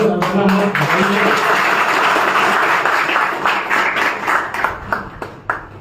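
Audience applause at a gathering on the old pension scheme, a sustained wash of clapping from many hands that thins into scattered, separate claps toward the end.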